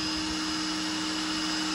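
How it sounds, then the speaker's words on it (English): An electric air pump inflates a pink flamingo pool float, a loud steady whirring motor hum with a constant rushing airflow that holds an unchanging pitch throughout, with no voices. "That's a good little pump."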